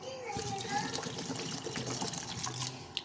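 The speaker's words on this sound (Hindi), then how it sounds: "अब हम लोग इसके अंदर पानी ऐड करेंगे।" Water is poured into a pot of rice and potatoes for a yellow rice dish, a steady broad splashing rush that runs throughout under a voice speaking.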